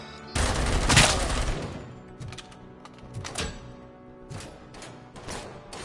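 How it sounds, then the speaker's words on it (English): Gunfire in RoboCop: Rogue City, a loud opening volley of rapid shots followed by scattered bursts and single cracks at varying distances, with no talk over it. "Still somebody shooting."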